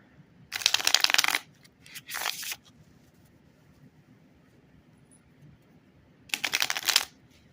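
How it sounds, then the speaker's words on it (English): Wonderland tarot cards in flexible cardstock are shuffled in two quick riffling bursts, then a short pause and one more burst, crisp and close in a quiet room. "Let's shuffle it up."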